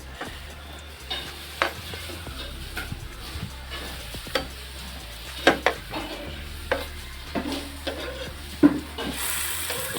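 Potatoes fry and get stirred in a pan during village-style cooking, with a steady low sizzle under irregular scraping strokes and occasional sharper clinks of the spoon against the pan, close and moderately loud, no talking.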